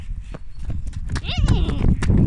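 Hooves of bucking horses, including a stallion, thump and stamp irregularly on the ground with a brief whinny in the middle, while people talk nearby over the commotion.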